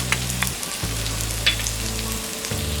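Chopped vegetables fry on a low flame, a soft continuous sizzle with light crackles and a faint stirring scrape, with a low hum under it and no talk.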